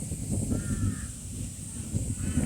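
Large crows caw several times in a garden in Osaka, Japan, their harsh calls standing out over a steady background hum.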